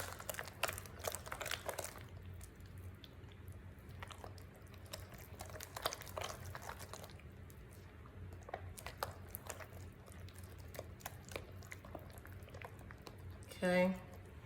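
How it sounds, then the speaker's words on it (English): Tartar sauce mixture with onions being stirred in a bowl, giving soft, wet squishing and clicking strokes close by for most of the stretch before quieting, with a louder bump near the end. "Get that stir going."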